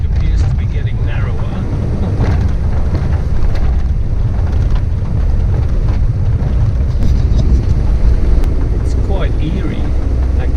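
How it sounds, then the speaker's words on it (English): Steady wind buffeting and low road rumble inside a vehicle driving a bumpy, narrowing graded dirt road in the Australian outback, continuous and fairly loud throughout. "it's windy"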